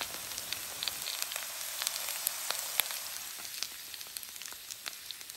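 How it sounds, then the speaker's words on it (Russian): Potatoes frying in a pan over a campfire outdoors, making a soft, even sizzle with scattered small pops and crackles, moderately quiet and steady, no one speaking. "жарю картошку"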